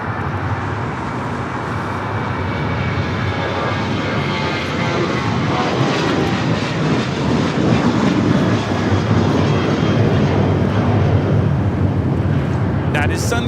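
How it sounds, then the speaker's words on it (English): A Sun Country Airlines Boeing 737-800 takes off at Los Angeles airport, producing a steady, loud jet engine roar that swells slightly, with faint radio talk beneath. "That is Sun Country Airlines 8711 taking off to San Jose, Costa Rica on the 737-800."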